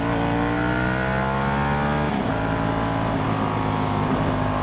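A KTM Super Duke motorcycle accelerates hard through a first-gear pull, its engine note climbing steadily, easing at a shift-like dip midway, then rising again. The sound is loud and continuous with wind noise and no talking.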